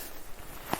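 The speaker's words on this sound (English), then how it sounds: "So you can hear the long grass now." Soft swishing footsteps brushing through long grass in the Ox Mountains, County Mayo, Ireland, faint and close, with one slightly sharper step near the end.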